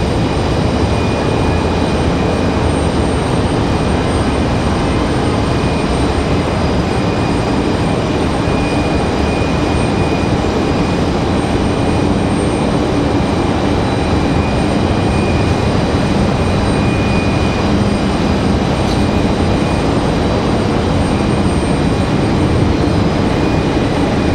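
An Embraer E175 jet airliner arriving at Raleigh-Durham airport from Nashville gives a continuous broadband engine roar, loud and steady throughout with no clear rise or fade, heard alone without voices.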